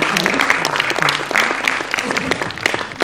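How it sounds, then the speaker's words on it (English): Warm round of applause from an event audience greeting a guest, dense steady clapping with some voices mixed in underneath. "Can we please have a warm round of applause for Sri Tripurari Sharanji?"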